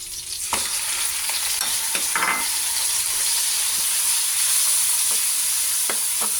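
Chicken stir-frying in a pan while cooking pancit, with a loud, steady sizzle and hiss throughout, broken by a few sharp scrapes and clatters from stirring.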